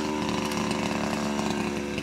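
A chainsaw bites into a very large wooden post, a loud continuous close-up engine whine with a rough buzzing edge from the cut, running steadily with no speech.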